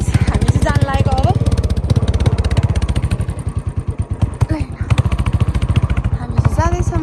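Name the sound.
motorbike riding to the village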